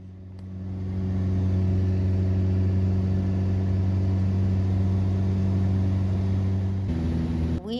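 A small plane's engine drones loudly and steadily during takeoff, a deep sustained hum that swells over the first two seconds, holds, then shifts slightly near the end.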